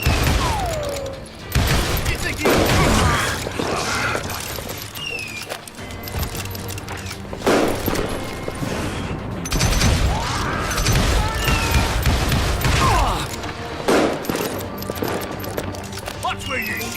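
Repeated gunshots and crashes during a saloon shootout in the Western video game Call of Juarez Gunslinger, bursts of firing with impacts and game music, mixed under a player's talk.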